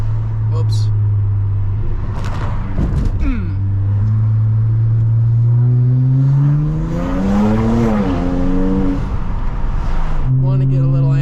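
A BMW 335i engine with aftermarket exhaust revs hard and accelerates with a loud, rising exhaust roar, shifting and climbing again, close and continuous throughout.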